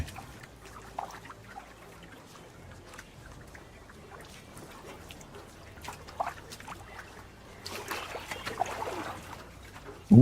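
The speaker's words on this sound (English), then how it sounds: "All I can hear is the water." Flowing water in the video game BitCraft forms a soft, continuous trickle and wash that carries on throughout. Faint scattered clicks sit under it, and the sound swells slightly near the end.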